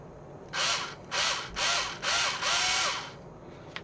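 A power drill bores into a hard plastic miniature ship model in five whirring bursts, close and fairly loud, with short pauses between each spin.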